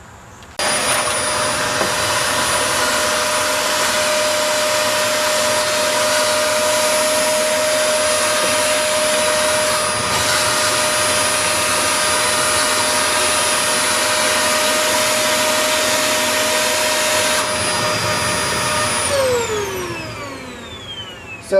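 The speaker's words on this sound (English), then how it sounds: "So the first method is vacuum, and we'll try it first with just vacuuming." A vacuum cleaner runs loud and steady for about twenty seconds, sucking powder off a surface, with a constant high whine before the motor winds down at the end.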